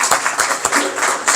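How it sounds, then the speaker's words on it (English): Applause from the audience at a community banquet and general body meeting, heard as a short burst of close, fairly loud hand claps with a few distinct sharp claps standing out, lasting just over a second. "Please give her a round of applause."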